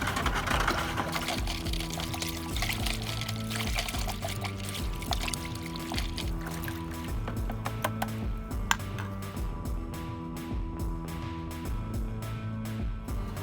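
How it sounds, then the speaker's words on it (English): A cup of soda ash poured into a container of water for tie-dye preparation, then stirred until dissolved: a splashing pour at first, settling into softer swishing and light stirring under a steady tonal hum. "So I pour that into the water, and then I give it a good stir until it's all dissolved."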